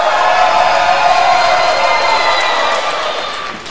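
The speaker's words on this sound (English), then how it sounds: "The crowd chanting for ROK-C" Wrestling arena crowd at a Reality of Wrestling women's championship match for ROK-C against Raychell Rose, a steady, dense roar of many voices chanting and cheering that holds loud throughout, easing slightly at the end.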